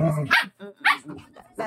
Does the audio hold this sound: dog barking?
yes